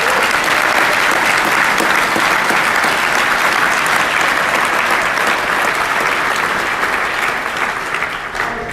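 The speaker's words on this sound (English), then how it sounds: "Can we give the biggest round of applause in the world for that?" A large conference crowd at a summit keynote breaks into big, loud, sustained applause, a thick continuous wash of clapping that holds steady for several seconds before easing slightly at the end.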